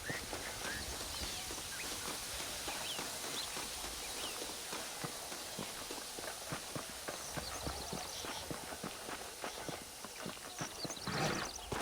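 Horses' hooves clip-clop steadily in Red Dead Redemption, a dense run of quick, even strikes from several animals moving at a walk or trot over a low ambient bed, with no talking.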